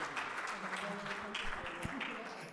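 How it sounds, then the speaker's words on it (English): A small conference audience gives brief, light applause at a tech talk. The scattered claps sit under mixed voices and chatter, and the sound is quiet. "Give them a round of applause for playing this silly party game"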